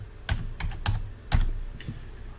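A few separate keypresses on a computer keyboard entering a number, close and clear, with uneven gaps between taps and no talking.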